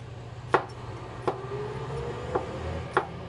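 Knife chopping garlic, onion, ginger and tomato on a board, four sharp separate knocks at uneven intervals over a low steady background hum, close and fairly quiet.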